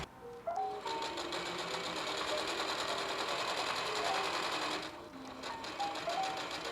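A sewing machine stitches a fabric seam for a cord cover scrunchie with a fast rhythmic whirring chatter, fairly quiet and close, pausing briefly near the end before resuming.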